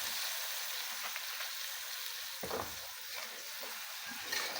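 Soy sauce added to pork adobo frying in a pan gives a steady sizzle, broken by a few soft stirring and clattering sounds close by.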